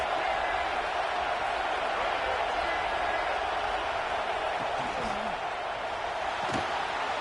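Stadium crowd in a college football video game, Clemson versus North Carolina, a steady roar filling the background beneath play-by-play commentary.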